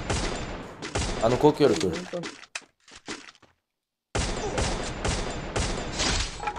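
Gunfire from the Free Fire video game comes in rapid bursts and single cracks, loud and close, while players talk over it. The shooting cuts out for a moment of near silence and then resumes.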